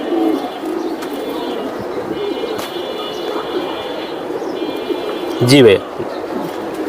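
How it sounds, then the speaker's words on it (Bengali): Red-geared silver pigeons coo in low, repeated murmurs at a pigeon sale, with people talking nearby and a brief louder burst of voice near the end. "এটা লাল গিয়ারের সিলভার কবুতর"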